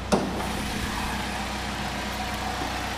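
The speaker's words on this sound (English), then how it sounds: "There's that four-cylinder Ecotec." A 2010 Chevy Cobalt's four-cylinder Ecotec engine idles under an open hood, a steady, even low rumble held close and constant throughout with no voices.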